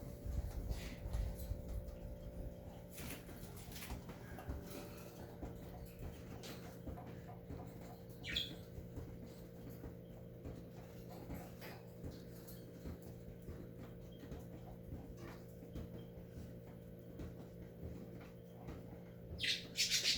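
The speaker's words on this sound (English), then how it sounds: "Now I can look at the birdies." Birds chirp and squawk faintly outdoors in a yard, scattered short calls over a steady low background hum, with occasional brief sharper squawks.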